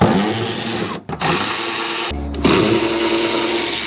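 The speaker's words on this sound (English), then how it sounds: "I'm going to use my little Milwaukee to take off the plastic splash shield on the car" A small Milwaukee cordless driver whirs in short bursts while removing plastic splash shield screws from beneath a Toyota RAV4, with two brief pauses between runs of the close, steady motor whine.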